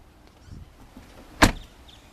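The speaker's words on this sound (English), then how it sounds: "Just this nice soft thunk." The door of a 2014 Audi Allroad 2.0T closes with one soft, muffled thunk nearby after a brief quiet stretch.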